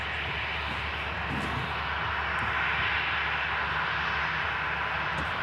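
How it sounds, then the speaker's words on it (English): Ryanair jet airliner rolling off the runway after landing, a steady broad engine roar close by with no talking. "Ryanair just vacating in front of us from Venice."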